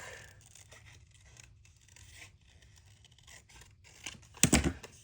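Scissors cut out a piece of 12x12 scrapbook paper with faint, scattered snips and rustles, close by. A louder crisp cut or tear comes near the end.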